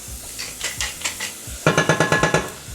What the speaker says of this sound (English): So in goes our oil first, followed by our onions.